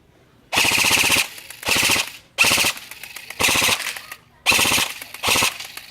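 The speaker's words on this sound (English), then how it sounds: "Now we'll shoot it. Yeah, absolutely. So this is the full auto." A Prone Wolves Ogre-modded gun fires on full auto in five separate loud, close bursts of rapid shots, each about half a second to a second long, with short pauses between them.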